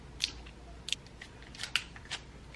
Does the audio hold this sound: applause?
no